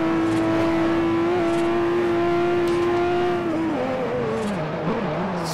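A Nissan Skyline GT-R R34 engine in Forza Horizon revs hard and steadily under acceleration, holding a loud sustained tone that climbs, then shifting with dips and rises in pitch near the end; no talking.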